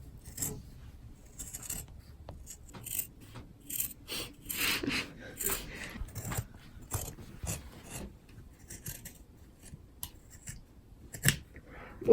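Scissors cut through thrifted clothing to make Bermuda shorts, a string of close, crisp snips and fabric rustles in irregular bursts, with quiet talk between them.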